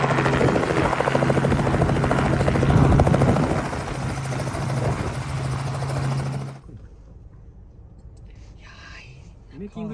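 A helicopter flies over Tokyo at night, its rotor thudding and engine droning loud and close for several seconds before cutting away to a quiet interior with faint voices.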